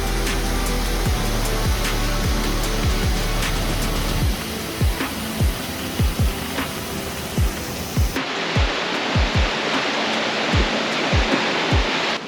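Twin Falls, a 31-foot waterfall in Silver Falls State Park formed by two streams of water coming down, gives a steady broadband rush of falling water, moderately loud and continuous, with faint regular clicks and no voices.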